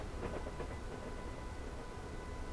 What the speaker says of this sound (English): That's a Class 73 pulling a Mach 3 set